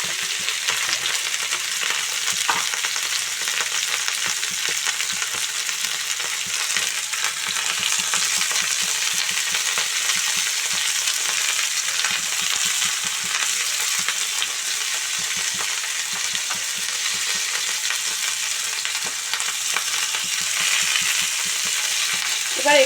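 Cauliflower, potato and paneer curry with turmeric and salt fries in a pan while being stirred, giving a steady close sizzle with scraping spoon strokes throughout and no voices.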